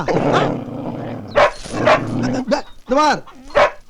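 A dog barks in a Tamil comedy film scene, several sharp barks and a drawn-out yelp mixed in with loud, overlapping speech.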